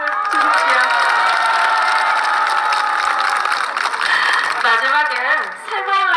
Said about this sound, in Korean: 다시 한번 큰 박수 주십시오